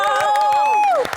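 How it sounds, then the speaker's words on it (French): A television studio audience applauds and cheers as the only male guest is welcomed onto the set, a loud, sustained burst of clapping and whoops with tonal music layered on top, fading out near the end. "On va applaudir notre invité, le seul homme sur ce plateau."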